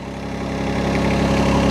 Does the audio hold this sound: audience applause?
no